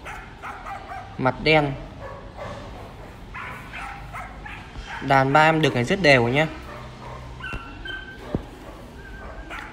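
Belgian Malinois puppies yip and whimper in short bursts of high squeaky cries, close by, while someone talks over and between them.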